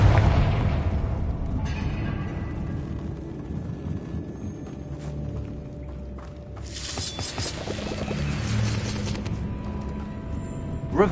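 A Confringo blasting spell going off in the video game Hogwarts Legacy, a low rumbling boom with a crackling, fiery burst, heavy and sustained rather than a single sharp bang, with no voices.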